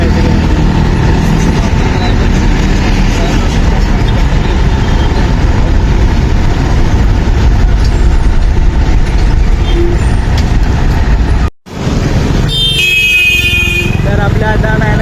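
A bus engine rumbles steadily from inside the cabin as it drives, a loud constant low drone, with a short dropout and a burst of tonal horn-like sound near the end.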